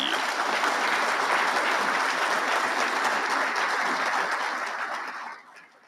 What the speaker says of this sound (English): a round of applause for Lieutenant Commander Yee